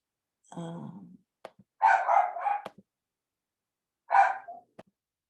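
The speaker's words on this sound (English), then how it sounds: "Hold on, let me pause until my dog's done." A dog barks a few times in short bursts at close range, with quiet pauses between them.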